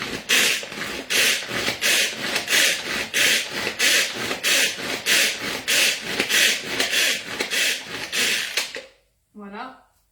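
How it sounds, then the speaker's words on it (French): A manual tornado chopper works through spinach in a quick, regular series of rhythmic whirring pulls, about a dozen close, loud strokes in a steady beat, ending with a short pause and a brief voice. "je vais prendre un petit tornado pour les hacher"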